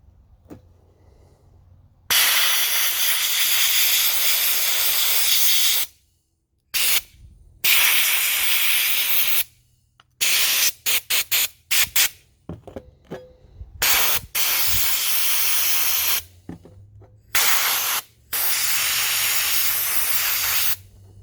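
Sandblaster spraying abrasive sand onto parts from a 1977 C3 Corvette power steering cylinder, a loud steady hiss in repeated long bursts with abrupt stops and short pauses between them.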